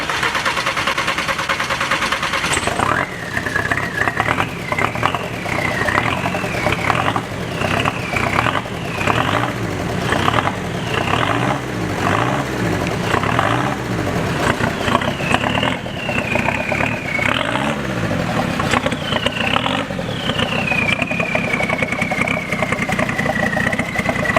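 A Cummins turbo diesel engine cranks and catches, then settles into a loud, steady idle with uneven pulsing and occasional revs, close by with no talking.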